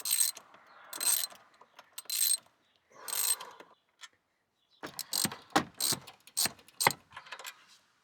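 Metal bolt being worked loose from the rear seat of a Subaru Impreza sedan, heard as close, bursty clicking ratchet strokes in two runs separated by brief pauses, with no talking.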